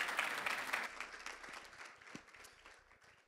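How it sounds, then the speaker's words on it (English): Audience applause for a keynote speaker at a plant phenotyping symposium, a moderate burst of clapping that gradually thins and fades over a few seconds. "One more applause for our keynote speaker,"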